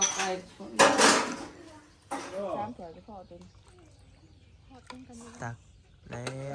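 Plates, dishes and cutlery clinking and knocking as they are handled, scattered light clatter under frequent talking.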